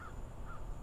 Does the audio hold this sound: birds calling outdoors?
yes